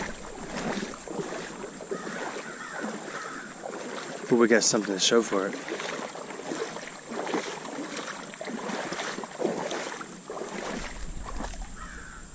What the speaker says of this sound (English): This might end up being a long video of just walking through the creek.